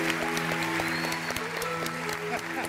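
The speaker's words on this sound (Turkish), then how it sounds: "Alkışlar" A studio audience applauds on a Turkish comedy show, with a steady wash of clapping under a sustained tonal hum and a few louder claps standing out.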